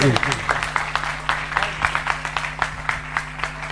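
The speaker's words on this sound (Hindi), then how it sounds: "जोरदार तालियों की डबल माला उनके घर तक प्रेषित करेंगे" Audience at a religious discourse gathering claps in a loose, uneven rhythm, individual claps distinct over a steady electrical hum from the sound system, moderately loud and close.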